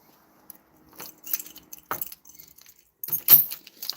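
A set of car keys jingles and clinks in a few short, close rattles spread over a few seconds, with quiet gaps between.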